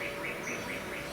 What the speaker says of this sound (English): These are bird sounds from outside